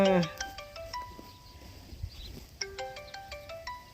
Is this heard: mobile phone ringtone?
yes